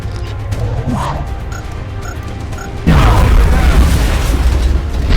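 A grenade blows up in the strategy game XCOM Long War with a sudden loud boom at about the three-second mark, after a stretch of game ambience and scattered effects, and a broad rumble continues to the end.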